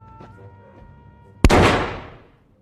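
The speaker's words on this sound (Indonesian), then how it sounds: "dia ditembak oleh seseorang." One sharp, loud gunshot cracks in a gangster film scene and decays into a long, fading echo after a quiet, murmuring background.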